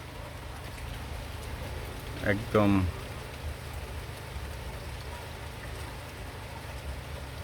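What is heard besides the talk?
rain falling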